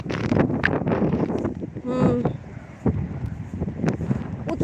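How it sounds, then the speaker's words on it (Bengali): Strong wind buffets outdoors in cold, rainy weather, gusting in loud rushing bursts with rumbling microphone noise and scattered rustles throughout. "প্রচুর বাতাস, প্রচুর।"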